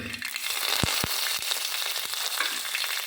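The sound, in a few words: mustard seeds spluttering in hot oil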